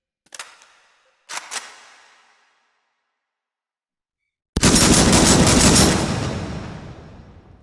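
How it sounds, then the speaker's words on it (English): Magazine-fed auto shotgun firing high-explosive rounds in the VR shooter H3VR: two sharp single shots with ringing decay, a pause, then a loud sustained rapid burst of blasts rolling into a long fading rumble. "So this is a magazine-fed AutoShotgun."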